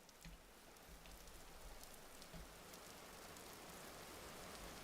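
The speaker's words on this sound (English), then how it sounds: "Oh, it's raining." Rain falling in the survival game Vintage Story: a faint, steady hiss of pattering drops with soft low rumbles, continuous and even throughout with no voices.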